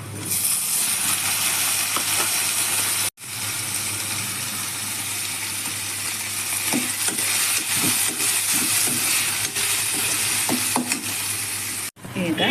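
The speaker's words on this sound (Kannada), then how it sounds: "ಈಗ ಈರುಳ್ಳಿ ಕಾದಿದೆ ಟೊಮೆಟೊ ಹಾಕ್ತಾ ಇದ್ದೇನೆ" Tomatoes tipped into hot frying onions for a saagu curry, giving a loud, steady sizzle with scraping stir sounds throughout and two brief sudden dropouts.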